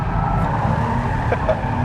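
2013 Porsche Boxster S pushed hard through a corner into oversteer, its engine droning loudly and steadily with a faint tire squeal rising briefly near the end, close by and with no talking.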